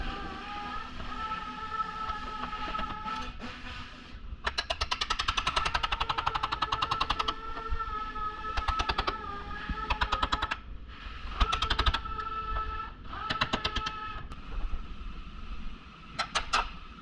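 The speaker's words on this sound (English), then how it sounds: "I'll start separating it with a hammer and chisel." Hammer and chisel driven against a spot-welded car body panel to separate it during sectioning, heard as rapid, loud metallic strikes in repeated bursts with short pauses between them.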